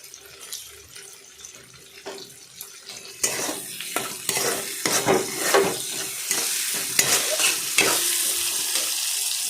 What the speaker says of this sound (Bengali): নাড়াচাড়া করে ভাজবেন আমি নাড়াচাড়া করে ভাজলাম